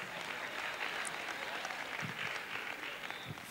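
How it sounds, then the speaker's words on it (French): A crowd at a church praise and thanksgiving festival applauds steadily for a few seconds, a dense wash of clapping from many hands at moderate distance. "Acclamation à Jésus-Christ."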